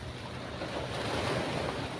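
Sea waves wash steadily against the shore where the current runs strong, a continuous close rushing surf blended with gusting wind noise, no voices.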